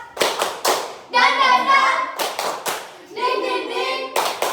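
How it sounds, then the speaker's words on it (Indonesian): Elementary school children do a rhythmic spirit clap in class, sharp bursts of handclaps in short patterned groups alternating with children chanting together in unison. "Tepuk semangat."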